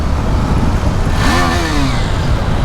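A new 2022 KTM Duke 390 engine, still breaking in, drones loudly on a ride, with a brief rising rev in the middle over constant wind and road roar.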